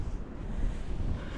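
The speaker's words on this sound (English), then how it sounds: "it's pretty windy up here" Steady wind buffets the microphone with a low, rumbling roar throughout on a cloud-covered hilltop at Afan mountain bike trails in Wales, no voices.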